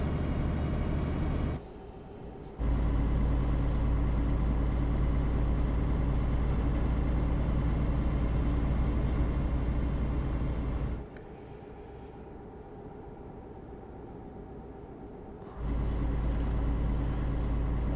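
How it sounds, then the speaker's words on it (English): A DAF heavy truck engine in Euro Truck Simulator 2 drones steadily at low pitch, briefly dipping twice as if shifting gears, with a thin high whine above the rumble. "This truck actually sounds quite nice."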